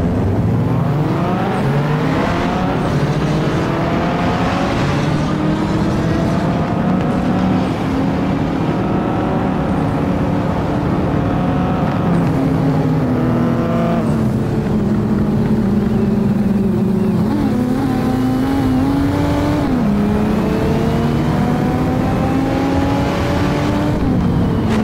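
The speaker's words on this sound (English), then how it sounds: "This is the 2023 Dodge Charger SRT Hellcat Red Eye Wide Body." A 2023 Dodge Charger SRT Hellcat Redeye Widebody in the Assetto Corsa racing game runs under steady load. The engine drones loudly and continuously, its pitch rising and falling through gear changes for the whole stretch, with no talking.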